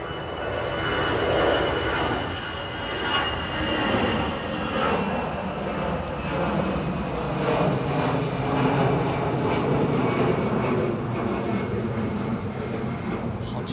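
An aircraft engine start-up at the Airbus factory in Toulouse, a broad sustained roar and hiss heard from a distance, steady throughout with faint tonal whine above it.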